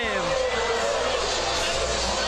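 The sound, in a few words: stadium crowd cheering and taunting at soccer match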